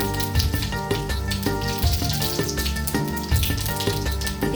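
Cumin seeds hit hot oil in a kadai and sizzle, a loud, crackling hiss close by that rises in repeated bursts over a few seconds.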